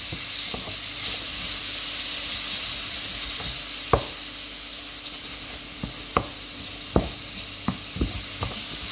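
Sauce for a lasagne roulade simmering and sizzling steadily in a pan, a soft continuous hiss with a few sharp clicks and taps of a utensil against the pan scattered through.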